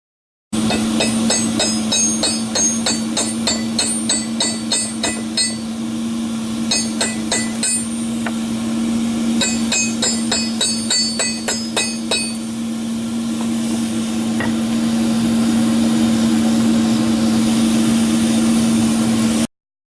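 Rhythmic metallic hammer blows ring out in quick bursts as steel rebar is forged into a Bowie knife, over a steady mechanical hum, with pauses between sets of strikes.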